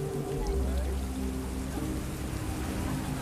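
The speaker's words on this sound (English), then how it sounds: "Rain falls from the gray sky, but it doesn't change the spirit of Chinatown." Steady rain falls on a Chinatown city street, a continuous close hiss and patter with low traffic-like rumble beneath, even and unbroken.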